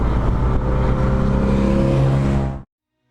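A 1966 MGB sports car built as a Le Mans replica drives past with a loud, steady engine roar, holding a constant pitch before cutting off abruptly, leaving silence.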